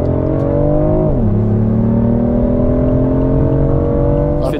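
BMW i8 three-cylinder engine revving in a video game, a steady loud engine drone with a brief dip in pitch before climbing gradually again, heard alone.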